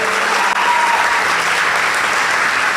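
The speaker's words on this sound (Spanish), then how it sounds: "Dale un fuerte aplauso al Señor por eso." A church congregation claps loudly and steadily together, a sustained round of applause from a large group in a room.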